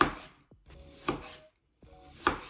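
A knife slicing small onions into rings on a board, with two or three crisp cutting strokes, each a sharp close knock with a brief scraping rasp, separated by short pauses and faint clinks.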